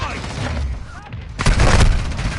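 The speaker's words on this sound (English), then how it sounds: "Hostile mortar strike in the area." A mortar strike lands in a video game battle, with rumbling low booms followed by a louder burst of explosions and crackling debris in the second half.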